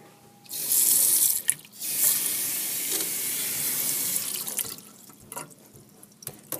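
Water pours steadily from a kitchen sink faucet, a loud continuous splashing rush that starts abruptly, holds for several seconds, then tapers into drips and light clatter.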